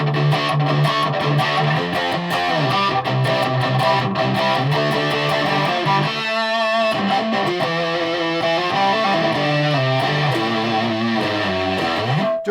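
Electric guitar played through a cheap Temu fuzz distortion pedal, the fuzz sitting at the back of the tone, with dense sustained chords and runs ringing loud and continuous, no voices over it.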